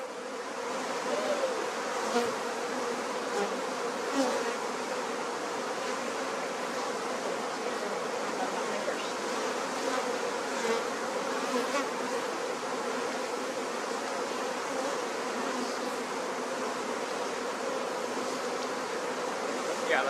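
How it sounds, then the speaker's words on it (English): Outdoors around beehives, a dense swarm of agitated honey bees drones steadily in the air, a constant close buzzing with individual bees zipping past now and then. "the bees are not usually like this in the air either"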